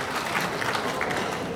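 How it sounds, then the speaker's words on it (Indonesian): Applause from a seated audience at a national disaster-management coordination meeting, a short burst of steady clapping that fills the room evenly, moderately loud with no voices rising above it. "Tepuk tangannya yang meriah ya,"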